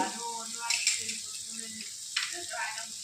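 Ingredients for white lime pickle sautéing in a pan, a soft continuous sizzle with a few faint scrapes and stirring clinks, quiet and close.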